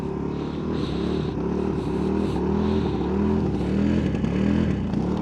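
A motorcycle's ABS engages on rough terrain in Taiwan; the engine keeps up a loud, steady low drone near the rider, with faint irregular pulsing above it.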